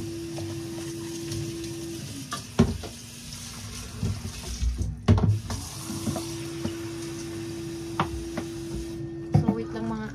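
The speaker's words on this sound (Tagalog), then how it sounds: "palitan na natin itong tubig nito at huhugasan na natin" Water running and splashing in a basin while dumpster-dive finds are rinsed and the water is changed, with a steady hum underneath and scattered knocks and clatters of handled items.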